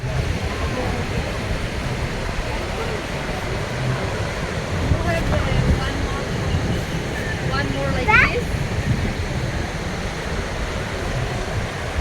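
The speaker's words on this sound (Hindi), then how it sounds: "देखें समर में काता बीच में कितनी लहरें होती हैं" Summer surf rolls in at Kata Beach, Phuket, a continuous rumbling wash of waves mixed with wind buffeting the microphone, with voices faintly underneath.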